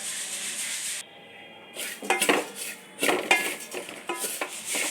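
A utensil scrapes and stirs coriander powder, chili powder and coconut as they dry-roast in a pan for chammanthi podi, with irregular rubbing and clinking strokes up close. A brief quieter pause comes early on, and there is no talk.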